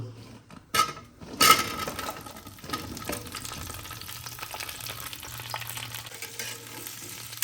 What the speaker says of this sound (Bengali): তেলের সাথে ভালো করে এটা দু মিনিট নাড়ি চাড়িয়ে নেব কুলগুলো ভাজতে ভাজতে